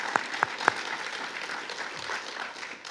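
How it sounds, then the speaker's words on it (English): Audience applause at the close of a memorial lecture, a steady wash of clapping from a room of people with a few sharp nearby claps at the start. "could we have a final round of applause for all those that made this event such a success"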